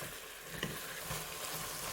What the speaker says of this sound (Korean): 고추를 넣고 볶아줍니다